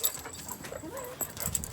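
A puppy gives soft, high whimpers and thin whines, a few short rising cries close by, over quiet background noise and without talk.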